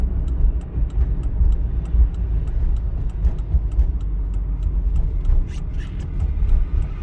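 Recorded inside a car making a left turn at an intersection during a driving test, a low engine and road rumble runs steadily under faint, regular turn-signal clicks.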